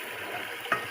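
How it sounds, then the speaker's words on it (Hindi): Beef and chana dal frying in a pot, a steady close sizzle with a brief louder crackle near the end. "दाल गोश्त इनको अच्छे से इसमें भूनूंगी।"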